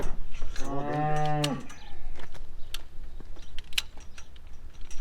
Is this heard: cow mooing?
yes